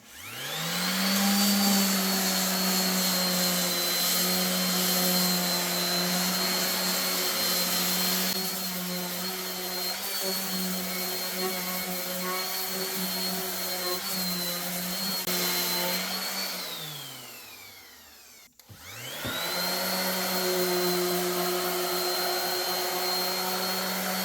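A power sander on wood whines at a steady high pitch, winds down to a stop, then starts up again, loud and close.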